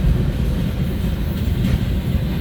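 A CN freight train passes at Ladysmith, Wisconsin, as its distributed power unit locomotive rolls by with a loud, steady, close rumble and faint wheel clatter, no voices.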